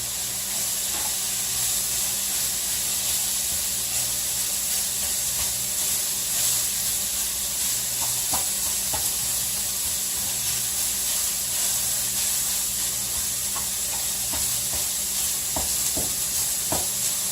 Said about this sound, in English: ground chicken up on the skillet